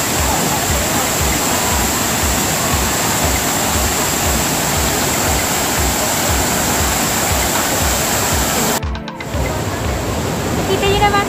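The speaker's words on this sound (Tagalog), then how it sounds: "meron tayong fountain. Continuous po ng waterfalls doon sa taas." Continuous rush of falling water from a fountain with cascading waterfalls in Hong Kong Park, a steady broadband roar throughout with a brief disturbance near the end.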